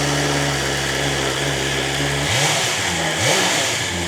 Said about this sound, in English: Give you guys a little sound clip of what it sounds like stock right now